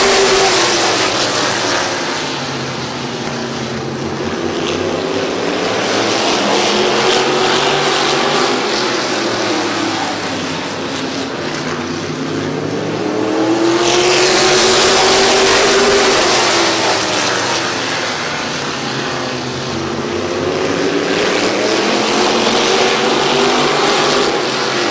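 Race cars roar around the Midvale Speedway oval during the 2020 fall classic, a continuous loud engine drone that swells and fades as the pack passes, with rising and falling pitch.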